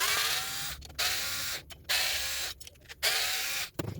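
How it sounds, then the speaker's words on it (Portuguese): Screws being loosened on the head of a cordless brushless three-speed angle grinder, heard as four close, whirring-ratcheting bursts of the driver separated by short pauses, with no talk. "Basta soltar esses 4 parafusos"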